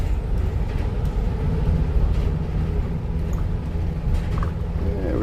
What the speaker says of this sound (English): We're in the trolley here,